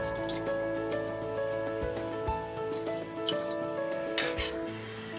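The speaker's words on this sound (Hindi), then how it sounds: "1 कप पानी एक्स्ट्रा डालेंगे।" Water trickles and drips as an extra cup is poured into vegetable pulao in a pressure cooker, a faint, light splashing in a quiet kitchen.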